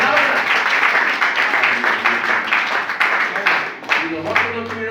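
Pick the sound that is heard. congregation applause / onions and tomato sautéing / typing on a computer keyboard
congregation applause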